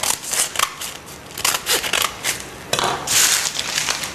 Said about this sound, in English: Cut this into a rounded shape and then snip deeply into the top.